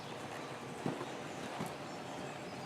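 Horse hooves loping in a show arena during a mock horse show, a soft steady clip-clop in a three-beat rhythm heard at moderate distance over a faint arena hum, with a couple of slightly sharper hoof strikes.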